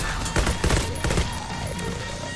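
Gunfire in the video game GROSS: rapid bursts of automatic fire with several heavy shots clustered in the first second, then scattered thinner pops over a continuous rumbling background.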